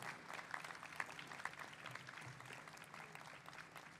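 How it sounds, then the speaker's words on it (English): Audience applause in a large hall at a university convocation ceremony, steady faint clapping from many hands heard at a distance for about four seconds. "can you please stand up and give them all a round of applause"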